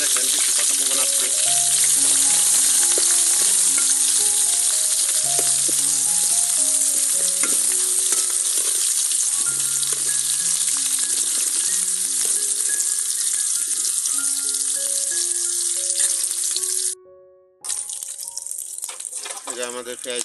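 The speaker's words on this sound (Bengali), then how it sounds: "তেজপাতা দেওয়া হচ্ছে, দারচিনি, গোলমরিচ, সব কিছু দেওয়া হচ্ছে আস্তে আস্তে।" Bay leaf, cinnamon and black pepper fry in hot oil for khichdi, giving a loud, continuous sizzle with light stirring under steady background music, briefly cutting out near the end.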